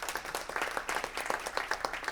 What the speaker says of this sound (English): Everyone give them a final round of applause.